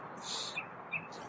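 A pet bird chirps in a short burst of bright, high calls, close and fairly faint, with a couple of sharp peeps at the end and no talking over it.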